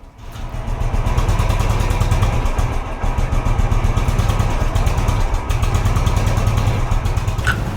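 A motorcycle engine that has stood unused for a long time catches and runs, a loud, close, steady idle with a fast throbbing pulse and slight rises in revs, with no talk over it.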